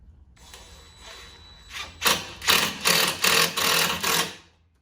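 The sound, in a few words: screws being driven to attach board to metal frame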